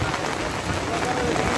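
Heavy rain pours down outdoors on Eid day after prayers in Dhobaura, a loud, dense, unbroken hiss filling the brief moment.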